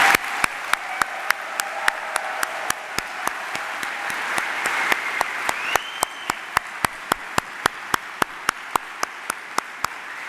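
A crowd applauds at a 2017 spring convocation for a business school's graduating class, steady dense clapping filling the hall with a few sharper individual claps standing out throughout.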